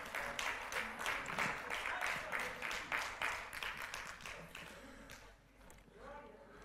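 Church congregation clapping for the Lord during a Spanish-language service, a dense run of steady applause that carries strongly for about five seconds, then thins and fades near the end.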